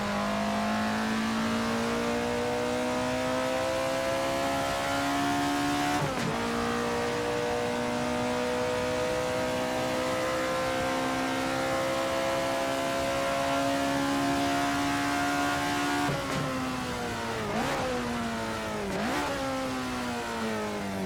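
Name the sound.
racing car engine revving, from a video game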